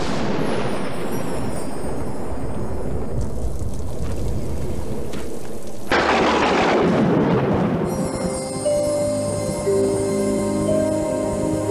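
Thunder sound effect over lightning transitions in a VHS trailer, a broad rumbling roar that cuts off abruptly and bursts back with a loud crack before fading under music.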